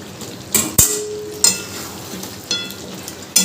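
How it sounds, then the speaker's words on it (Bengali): A spoon stirring fried potatoes into a pot of desi chicken curry, giving a low sizzle broken by several distinct scraping clanks against the pan at irregular intervals. "আলুটা দিয়েও খুব ভালো করে মিশিয়ে নেব।"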